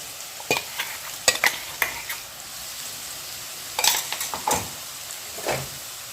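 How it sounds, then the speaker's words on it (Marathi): Ground spice paste roasting in a pan over low heat, repeated scraping and stirring with a faint continuous sizzle, spatula strokes in irregular bursts, close up. "हा मसाला भाजून घ्या"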